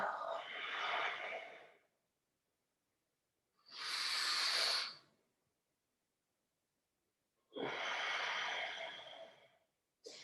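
Slow yoga breathing, heard as three long, airy breaths separated by silent pauses, each breath a soft hiss lasting one to two seconds, close and clear.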